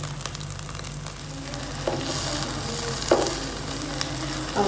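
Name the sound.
mutton tikka boti sizzling on the grill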